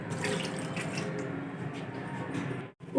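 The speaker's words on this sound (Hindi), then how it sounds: "आधा कप पानी ऐड करेंगे।" Half a cup of water poured into a hot kadhai of marinated chicken for a Jama Masjid style chicken fry, a steady close splashing rush running about two and a half seconds before cutting off abruptly.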